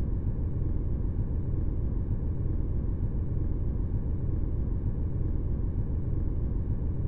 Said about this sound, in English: now the ambience is applied across the entire length of the track